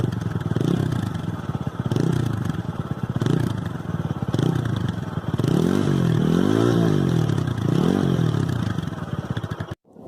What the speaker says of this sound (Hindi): ये इसके साइलेंसर की आवाज़ है।